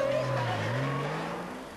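A Porsche engine revving, its drone dipping then climbing in pitch as the car moves off, fairly loud at first and fading slightly as it pulls away, with no talk.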